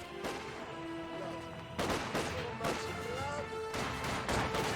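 Gunfire and explosions in the World War II strategy game Company of Heroes 2, several sharp blasts and bursts of shots under a rumbling battle din, with speech running over it.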